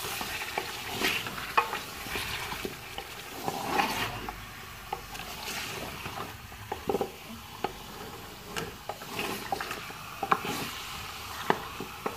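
Beef pieces frying in a pot for nihari, a steady sizzle with frequent scraping and clacking strokes of the stirring spoon, close up with no talk.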